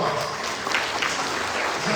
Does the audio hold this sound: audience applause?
yes